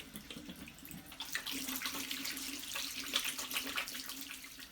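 Tap water runs steadily into a bathroom sink as hands and faces are washed during a morning routine, a continuous close splashing hiss lasting throughout with no talk.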